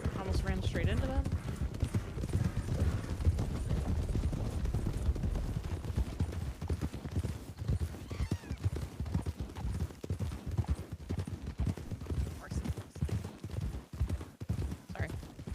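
Horses gallop with continuous rhythmic hoofbeats in a Red Dead roleplay game, loud and steady, mixed with occasional neighs, while people talk over the galloping.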